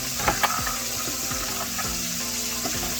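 Chicken frying in hot cooking oil, giving a steady dense sizzle that fills the whole stretch, with a few faint clinks and scrapes of a utensil in the pan and no voices.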